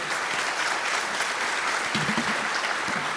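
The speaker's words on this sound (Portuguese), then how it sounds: "Salva de palmas para os dois," An audience at a national road-maintenance conference applauds two speakers with dense, continuous clapping that fills the room, and a voice speaks briefly over it near the end.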